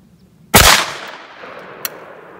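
A shotgun fires a single .410 Foster slug made from a .41 Magnum bullet outdoors: one sharp, loud blast that decays quickly, followed by a faint distant crack about a second later.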